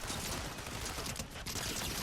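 A goo gun in Fortnite fires at a ceiling, producing a dense, continuous burst of rapid shooting noise that stays loud and unbroken for the whole moment, with only a slight dip near the end.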